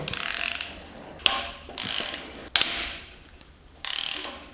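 A hand ratchet clicks rapidly in three bursts, undoing 11 mm screws on the water housing of a 1.9 Peugeot 205 GTI engine during teardown, with sharp clunks between bursts and quiet pauses.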